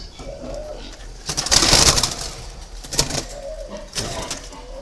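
Doves cooing near a nest where the parent birds are brooding eggs, soft repeated low coos at close range with a brief rustle of movement and some faint background noise.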